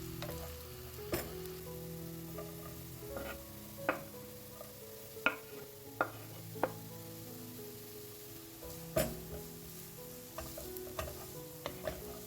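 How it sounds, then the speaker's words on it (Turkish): Quiet sizzling of onions frying in oil, with a spoon scraping and tapping the pan at irregular intervals throughout. "soğanlarım pembeleşinceye kadar karıştırıyorum"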